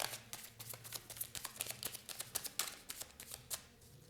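Tarot cards being shuffled by hand in quick, riffling bursts of papery flicks, soft and close with a rapid irregular rhythm and no talk.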